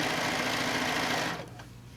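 Close, steady whir of a sewing machine stitching down a quilt edge, running evenly before slowing and stopping near the end.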